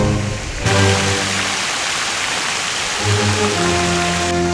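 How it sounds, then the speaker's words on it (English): A broad, steady hiss of rain pours down in Cleveland, Ohio, with a low engine-like hum fading in and out around it. "Of course, it's raining right now."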